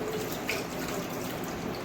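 A newly bought coconut grater is rinsed under running water, a close steady splashing and trickling with a faint voice in the background.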